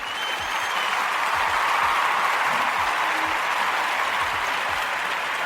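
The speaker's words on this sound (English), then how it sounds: "I'm going to hit the applause again." An applause sound effect played during a podcast, a continuous, dense burst of clapping and light crowd noise that stays loud and even from start to finish.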